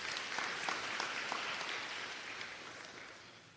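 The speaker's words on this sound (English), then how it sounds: "Can we get another round of applause for her" An audience at a student recognition ceremony gives a full round of applause, many hands clapping loudly at first and then gradually fading toward the end.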